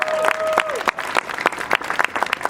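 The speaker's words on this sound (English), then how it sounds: "Can we give them another big round of applause, please?" Audience applause for an orchestra at an outdoor street sign ceremony, a burst of clapping with a held musical tone fading early, sharp claps continuing steadily to the end.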